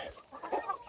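Free-range chickens in Çağlarca, Antalya, cluck softly while pecking at dry bulgur, short close clucks coming and going over a low busy background.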